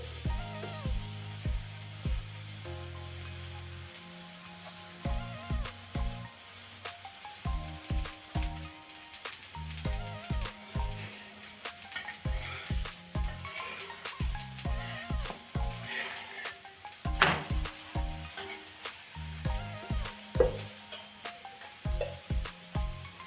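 Chickpea and paneer paratha frying in ghee on a hot pan, giving a steady close sizzle with crackling bursts and occasional stirring or flipping noises, over faint background music.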